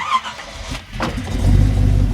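An old-school car engine cranks briefly, then catches and settles into a steady, fairly loud idle with a low rhythmic throb.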